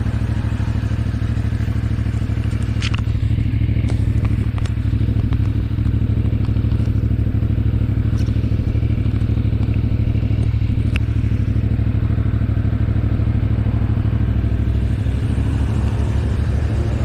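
A CF Moto 450 MT motorcycle with its stock exhaust idles steadily close by, a low, muffled, even engine rumble with a few light mechanical clicks and clatters on top, and no voices.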